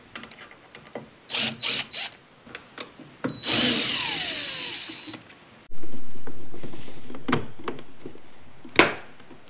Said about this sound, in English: All I have to do is undo these 4 screws.